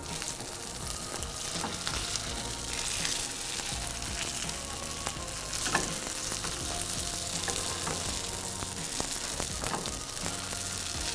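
Grain cakes with onion bits sizzling in a hot pan right after being flipped, a dense, steady close frying hiss with occasional crackles and spatters throughout.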